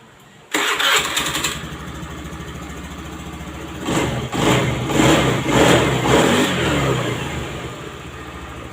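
A fuel-injected Honda Beat motorcycle with a failing fuel pump cranks and starts on test, then idles and revs in several uneven bursts, loud and close, with no voices.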